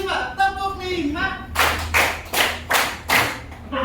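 A fifth-grade classroom claps together five times, each sharp unison clap loud and close, following a stretch of a voice at the start.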